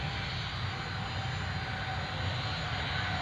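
A jet airliner takes off from Newcastle International Airport, heard as a loud, steady engine roar with a deep rumble that holds evenly throughout, with no voices over it.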